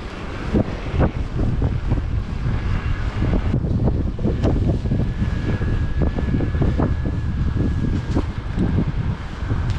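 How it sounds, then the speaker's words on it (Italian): Strong, gusty wind roars continuously and loudly across an outdoor microphone, rumbling and buffeting with no break. "qui tira un vento micidiale"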